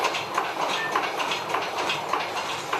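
A compound steam engine runs below deck on a steam ship, a loud dense mechanical roar with a steady rhythmic chuffing and clatter, close by, with no talk.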